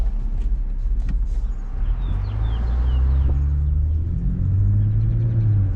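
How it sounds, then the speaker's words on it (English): A car rolls past on a quiet residential street in Denver's Bonnie Brae neighborhood, a low rumbling tire and engine sound that swells and fades over several seconds, with faint bird chirps in the background. "I'm gonna let this car pass me just because I'm going extra slow"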